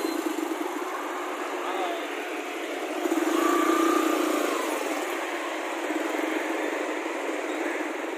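A motorcycle engine runs steadily on a solo ride along GT Road toward Lahore, a constant droning hum with a brief swell midway, close and continuous with no talk.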